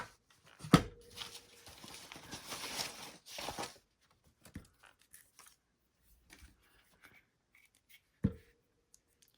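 Leftover paper being cut off for an envelope journal collage, with a sharp snip, a stretch of rustling paper, scattered soft taps and a final crisp snip, close and quiet.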